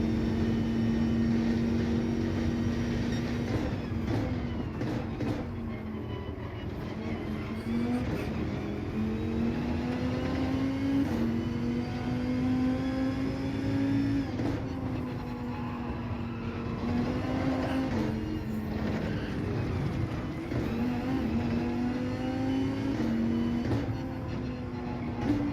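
A Dodge Viper Gr.3 race car in GT7 at Monza, its engine droning loud and continuous through repeated rising and falling revs as it shifts gears and accelerates out of corners, with no talk.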